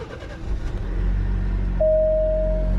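A 2018 Alfa Romeo Stelvio engine cranks briefly and catches, settling into a close, steady low rumble at idle, with a thin electronic tone from the car chiming in partway through.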